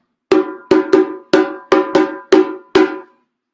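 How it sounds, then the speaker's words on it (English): A percussion signal that cues the start of African drumming: seven sharp, ringing metallic strikes like a bell, in a syncopated pattern, loud and close with nothing else behind them. "So usually we use what we call a signal or a break."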